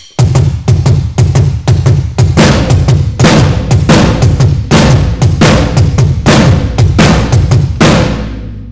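A drum practice pattern on floor tom and snare, loud and close, with steady repeated hits in a driving, even rhythm and no talk over it, ending on a ringing decay.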